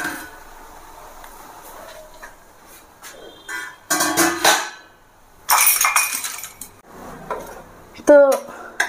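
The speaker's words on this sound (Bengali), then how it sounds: "এবার আমি ঢাকনাটা খুলবো" A metal lid lifts off a pot of steamed biryani with clanks and clinks of cookware, a few sharp metallic knocks rising out of a quiet kitchen background.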